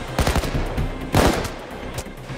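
Gunfire in the heist video game Payday 2: a rapid, loud burst of shots, a second close burst a moment later, then one more single crack.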